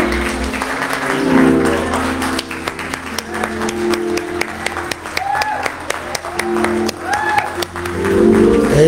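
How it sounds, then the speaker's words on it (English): A church congregation claps in praise during a worship service, a dense, sustained wash of applause with a sung or tonal line and voices running through it, fairly loud and close throughout. "Let's give them a hand clap of praise."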